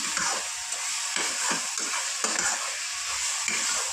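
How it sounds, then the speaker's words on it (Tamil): Ingredients for a mutton curry being stirred and fried in a pan, a steady close sizzle with repeated scraping stir strokes running throughout, no voices. "இப்போ நல்லா போட்டு கிளறி இருக்கணும்"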